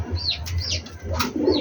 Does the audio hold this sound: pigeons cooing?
yes